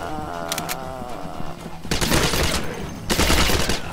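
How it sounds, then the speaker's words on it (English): A submachine gun fires at zombies in a video game. Two loud, dense bursts of rapid automatic fire stand out from quieter in-game clatter and background effects. "you can just straight up murder them with the submachine gun"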